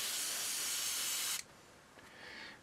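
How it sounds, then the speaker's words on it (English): A loud, steady hiss of airbrush test spray of dark blue paint runs for over a second, then cuts off abruptly, leaving a faint quieter hiss trailing after. "Give it a test spray"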